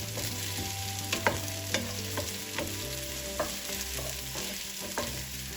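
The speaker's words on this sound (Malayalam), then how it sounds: "ഒന്ന് സോട്ട് ചെയ്തിട്ട് കേട്ടോ, ആവശ്യത്തിന് ഉപ്പ് ചേർത്തിട്ട് നമുക്ക് സോട്ട് ചെയ്തെടുക്കാം." Onions and curry leaves sauté and sizzle in a pan for a fish molly, with steady frying hiss and repeated clinks and scrapes of a spoon stirring, close and alone without talk.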